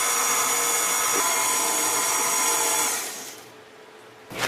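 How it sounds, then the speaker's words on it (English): A KitchenAid stand mixer runs on low, giving a loud, steady motor whir that holds for about three seconds before dropping away, then a brief clunk near the end. "we're gonna use the KitchenAid mixer today"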